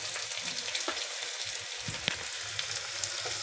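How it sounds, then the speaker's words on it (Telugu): Onion pieces and a sprig of fresh curry leaves frying in a pan, giving a steady, close sizzle with occasional soft stirring clicks and no talk. "ఇప్పుడు మనము ఉల్లిపాయ ముక్కలను ఇందులో వేద్దాము."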